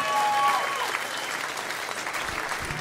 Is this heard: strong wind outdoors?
no